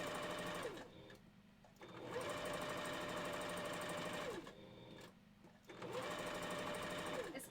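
A sewing machine runs in three steady bursts, stitching furry fabric pieces together for a wolf costume head. The motor hums continuously with brief pauses between runs, close and steady, with no talk.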